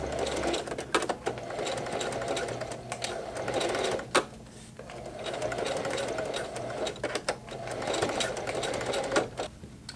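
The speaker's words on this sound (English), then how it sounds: "I'm going to sew a piece of shock cord to act as the closing strap" A sewing machine stitches a shock cord strap onto a knife roll, running in close, steady bursts with brief pauses between stitching runs.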